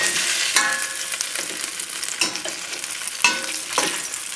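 Polenta slices fry in a pan that is not non-stick, giving a steady bright sizzle with a few louder pops and spatters as pieces are turned, close and alone with no voices.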